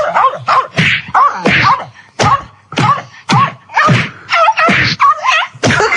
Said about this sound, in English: That's someone beating up a dog.